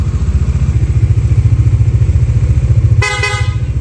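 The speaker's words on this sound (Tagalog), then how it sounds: "Taas ng busina." A loud Kawasaki Dominar 400 motorcycle engine idles close by, then a sharp horn honks once, about half a second long, over the running engine.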